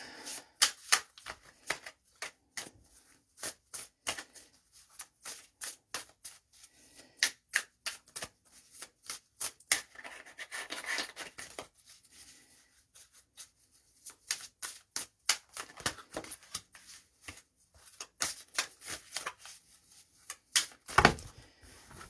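Oracle cards are shuffled by hand in quick, crisp riffles and taps that repeat in uneven bursts for the whole stretch, near and fairly quiet with no talk.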